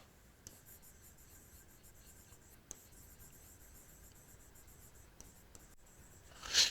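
Pen writing a point in study notes, a soft continuous scratching rub with faint tapping strokes, close and quiet, ending in a brief louder scrape.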